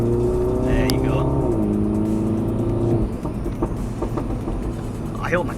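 A Mini Cooper S John Cooper Works revs loudly up close, holding a steady high engine drone that steps down in pitch and then cuts off sharply, leaving a quieter idle with faint clicks and a brief voice.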